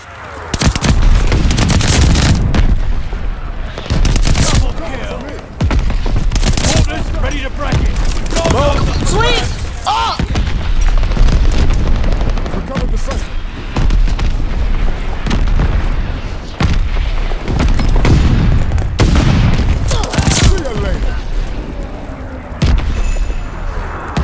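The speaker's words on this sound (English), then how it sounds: "Friendly mortar fire coming" Heavy booming mortar explosions mixed with rapid gunfire in the World War II shooter Call of Duty Vanguard, loud and near, with repeated blasts and sustained shooting across the whole stretch.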